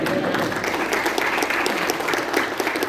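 An audience breaks into sustained applause at a gathering, a dense, even wash of many hands clapping at once, fairly loud and close, with no speech on top.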